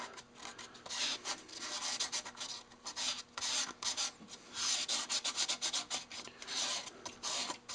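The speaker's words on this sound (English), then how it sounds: "I just kind of slow it down and hand sand it right on those" Hand sanding a natural-edge maple bowl spinning slowly on a wood lathe, a close, raspy rubbing in repeated uneven strokes that swell and fade, with no talking.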